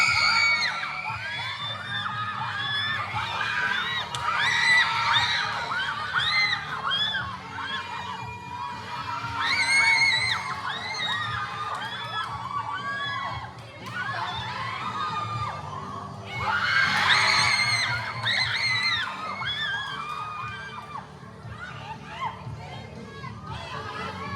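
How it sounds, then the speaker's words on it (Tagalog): Crowd of children in a group cheering and shouting at a school event, a dense, loud roar of overlapping high voices surging in waves, with a speaker's voice under it. "Magbigay hiyaw sa pangatlong pangkat."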